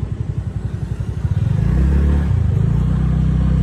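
A scooter's small engine putters in a quick, pulsing rhythm while it is ridden, then revs up into a louder, smoother drone that holds steady, close and unaccompanied.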